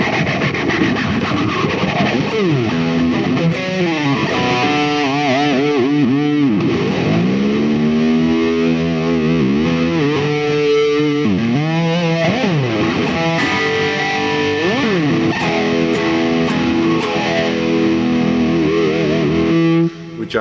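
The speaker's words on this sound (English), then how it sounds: "Which obviously is a stereo phaser." Heavily distorted electric guitar chords and bends play with a sweeping phaser effect that swirls continuously through the sustained notes.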